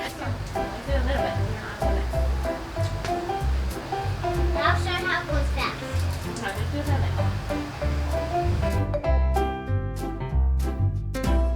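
A garden hose runs on a home patio during outdoor water play with buckets and toys. Its broad, steady rushing spray is close and continuous, with voices faintly underneath.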